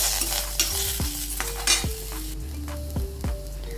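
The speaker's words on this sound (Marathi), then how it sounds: "टोमॅटोला आणि कांद्याला चटके पडेपर्यंत हा भाजून घ्यायचा" Tomato and onion roasting over a high gas flame until charred, a continuous sizzle and hiss with several sharp metallic taps and scrapes of stirring, fairly close with no voices.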